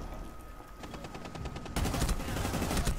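Rapid automatic gunfire in a video game, quiet at first and then suddenly louder and denser, a continuous rattle of shots that runs to the end.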